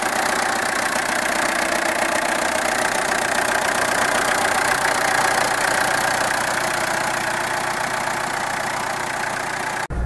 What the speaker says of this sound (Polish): silnik diesla doładowany. No, kultura pracy przyzwoita, jak beczka, jak stała beczka